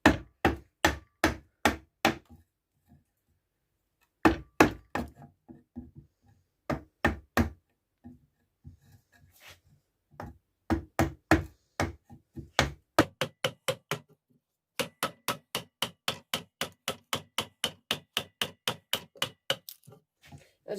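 A hammer striking a chisel while restoring an axe, close sharp knocks in steady rhythmic runs, some spaced evenly and one fast final series, with short pauses between bursts.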